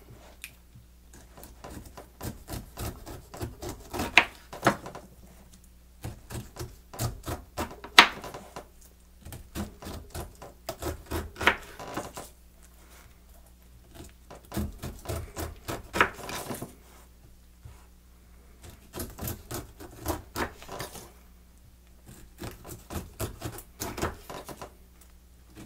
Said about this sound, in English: Stand our pineapple up. And remove the skin.